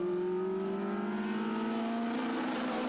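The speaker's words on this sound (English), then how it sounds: "Up on the rev limiter on that one" A British sports car racing at a circuit during an MG race, its engine held high on the rev limiter in a steady sustained whine that climbs gradually, loud and continuous with no talk.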